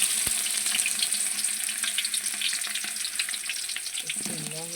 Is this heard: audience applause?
no